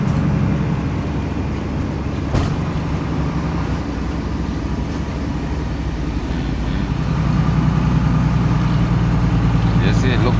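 Heavy loaded truck engine running rough with a misfire on the road, a steady loud low rumble throughout with a brief thump near the start.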